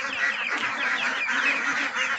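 A flock of ducks quacks and honks nearby in a loud, dense, continuous chorus of overlapping calls, with no talk.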